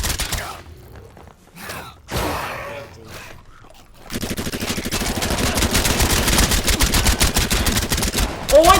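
Gunfire in the shooter game Shattered Skies: a few scattered shots and scuffling at first, then sustained rapid automatic fire from about four seconds on, loud and close, with brief voices.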